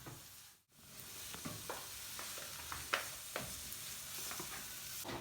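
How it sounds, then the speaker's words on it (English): Onions sweating in a pan for a creamy bacon and mushroom pasta, giving a low, steady sizzle with a handful of scraping stirs and utensil taps after a brief dropout near the start. "what we're going to do now is just sweat off our onions a little bit"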